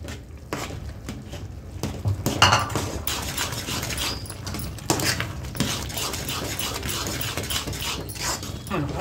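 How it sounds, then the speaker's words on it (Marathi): Gram flour (besan) being stirred into boiling water in a pan for pithla, with steady scraping and clinking of a spoon against the pan over a bubbling background; a dog-like whimper or patter briefly surfaces. "थोडं थोडं टाकत जायचं आणि हलवत जायचं, गुठळ्या पडल्या न पाहिजे"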